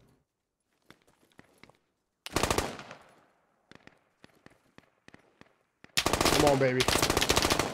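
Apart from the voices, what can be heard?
gunfire in video game Squad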